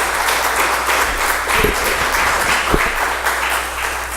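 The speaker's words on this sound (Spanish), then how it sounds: "Le damos un fuerte aplauso a él," An audience applauds after a speaker at an academic seminar on the history and philosophy of religions at Mexico's national university (UNAM); dense, steady clapping fills the room with a few louder close claps, and no one speaks over it.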